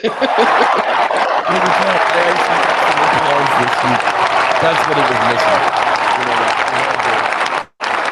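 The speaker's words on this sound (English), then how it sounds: "We had to get the applause out of the way." Loud, sustained audience applause fills several seconds with chuckles and laughter mixed in, and a voice talks over it before it cuts off abruptly near the end.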